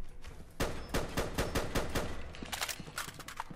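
A FAMAS rifle modded into Fallout 4 fires a steady rapid string of sharp, evenly spaced shots, close and fairly loud, continuing for about three seconds.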